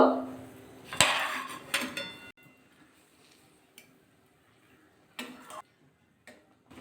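Spatula scraping and clinking in a pan as fried rui fish pieces are stirred into malai curry, a loud burst of clatter at first, then quieter intermittent scrapes and taps.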